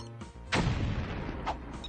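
A single loud gun blast in the PS2 Ratchet and Clank game erupts into a heavy rumbling, decaying boom, followed by a smaller secondary crack.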